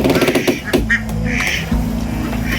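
Ducks quack loudly and repeatedly while feeding, a dense chorus of nasal honking calls from a close flock with a busy outdoor background.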